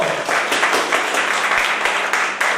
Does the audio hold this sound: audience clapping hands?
yes